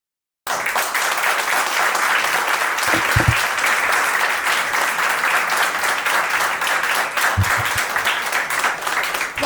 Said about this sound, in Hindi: एक बार और जोरदार तालियां हो जाए